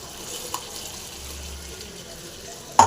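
A faint, steady stream of tap water runs while chillies are washed for a cauliflower gravy. The sound stays quiet throughout and ends with a brief clatter.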